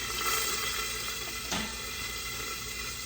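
Bacon frying in a pan, a steady broadband sizzle that holds evenly throughout, with one brief louder crackle or stir partway through.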